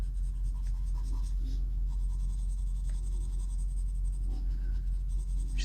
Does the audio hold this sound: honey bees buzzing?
no